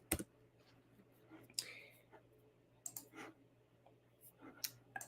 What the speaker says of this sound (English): let me start typing y'all names in here.